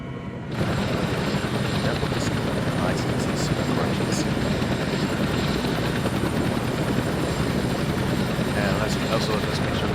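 An aircraft in ARMA 3 taxis toward the runway, its engine a steady, loud, droning whine that runs throughout, with faint radio-style chatter on top.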